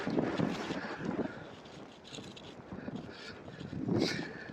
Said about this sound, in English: This wind in general is absolutely mental.